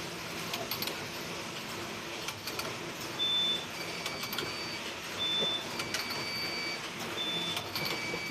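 A checker knitting machine makes shawls and mufflers with a steady, dense mechanical clatter and whir, its rhythmic swells recurring every second or two, with brief high electronic beeps over it and no talk.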